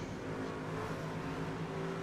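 Race trucks in an iRacing truck series event at Charlotte Motor Speedway launch on a restart, their engines forming a steady, droning roar with a rising whir under it, with no voices in the clip.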